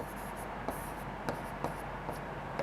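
A pen scratching out an answer during a Sanskrit lesson, soft strokes and taps recurring at intervals close by, over a steady background hum.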